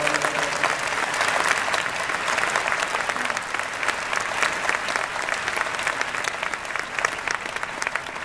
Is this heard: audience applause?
yes